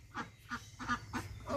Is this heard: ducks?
yes